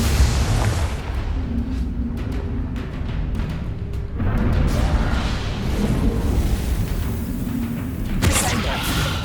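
Deep booming blasts from the Confringo fire spell in Hogwarts Legacy, loud and heavy with rumbling bursts over a dense background of game noise.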